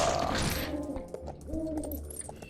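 An owl hoots in a LEGO Lord of the Rings video game, soft cooing calls repeated twice against a busy game background.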